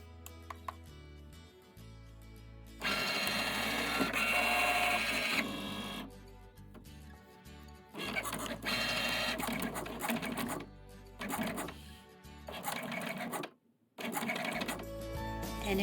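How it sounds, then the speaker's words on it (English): A Cricut cutting machine runs through iron-on vinyl on a mat in bursts of whirring, buzzing motor movement separated by short pauses and clicks, fairly close and without talk. "I then loaded the mat into my printer and let it do its cutting."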